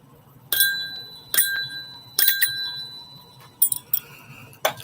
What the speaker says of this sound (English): Got to get the extra bells up in here today